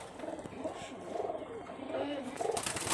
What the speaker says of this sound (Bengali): এক জোড়া কবুতর দেখাচ্ছে পা বাজির কবুতর